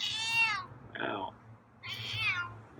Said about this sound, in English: That's a loud meow.